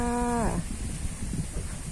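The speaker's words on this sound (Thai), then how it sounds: "คลิปนี้เรามาดูแกะของเรานะคะ" A male sheep sick with a cold and fever lets out one strained, descending bleat that fades after about half a second, leaving low background rumble and faint noise.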